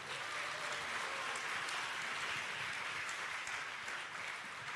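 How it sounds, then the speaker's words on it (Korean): Sustained applause from a large audience at an assembly candidates' hearing, dense and steady throughout without pause. "여러분 뜨거운 격려의 박수 부탁드리겠습니다"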